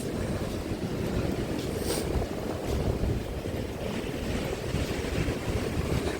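Rough storm waves on the sea at Odesa surge and crash continuously, mixed with gusting wind noise on the microphone, loud and steady with no voices.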